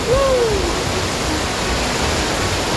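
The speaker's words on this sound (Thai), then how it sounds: "แต่ว ่าตอนนี้เราอยู่กับน้ำตกนะครับนี่คือน้ำตกของเจ้าครับสวยงามมาก" A waterfall on Koh Kood island in Thailand makes a loud, steady rushing roar. A short, high whistle-like tone rises and falls over it near the start.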